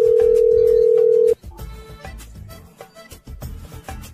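Telephone dial tone while placing a call, a loud steady tone for a second and a half that cuts off abruptly, followed by quieter room sounds and faint background noise.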